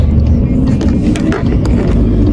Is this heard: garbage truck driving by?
yes